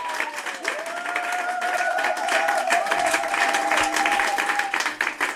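Children at an orphanage applaud loudly, with dense, sustained clapping and a thin tonal line riding over the crowd for several seconds.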